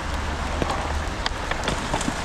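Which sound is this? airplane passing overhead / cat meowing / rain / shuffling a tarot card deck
rain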